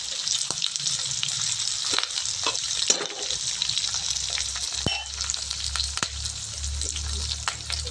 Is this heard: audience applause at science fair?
no